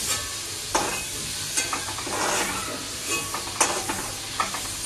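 Prawns sizzle and hiss steadily in a hot pan, with occasional stirring scrapes and clinks breaking through the continuous frying noise; no talking.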